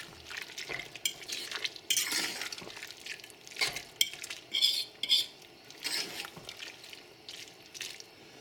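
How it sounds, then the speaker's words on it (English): A spoon stirs a corn flour mixture in a pan, giving soft scraping swirls and light metallic clinks in irregular bursts, quiet and close with no talk. "So I just need to make sure that everything is mixed thoroughly in the pan."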